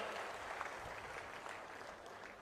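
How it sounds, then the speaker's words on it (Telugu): An audience applauds officials who brought water to the farmers' fields at a public meeting with West Godavari farmers, a dense, steady clapping heard from a distance and fading slightly toward the end. "గట్టిగా చప్పట్లు కొట్టి మీ పొలాలకు నీళ్లు ఇచ్చిన అధికారులు అభినందించాలి"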